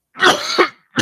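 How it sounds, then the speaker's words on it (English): Two quick, rough coughs with a throat-clearing quality, close and fairly loud, a third starting just after. "coughing a little bit."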